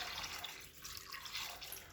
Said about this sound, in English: now I'll put in fresh water